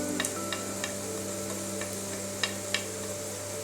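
A spoon stirring turmeric and chili powder into frying onions in a pan, with a handful of light scrapes and clinks spaced over a steady low sizzle and hum.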